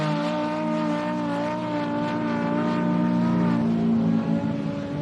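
An Ultra 4 off-road race car engine at the Don River Dash holds a loud, steady rev with rising pitch, sounding close and continuous for several seconds before a slight drop at the end.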